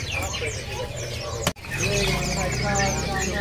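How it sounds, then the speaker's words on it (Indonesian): A caged Sumatran flamboyan bird calls among a crowd of chirping shop birds, a steady dense tangle of high tweets and whistles, broken at mid-point by one sharp knock before the chatter resumes, with voices murmuring underneath. "Di sini ada burung flamboyan Sumatera"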